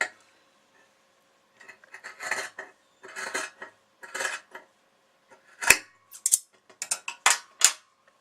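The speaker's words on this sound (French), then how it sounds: "Donc là, je vais couper." Scissors snipping through denim jeans while the legs are cut down into shorts, a series of short crisp bursts in irregular groups, close and fairly loud, with no talking.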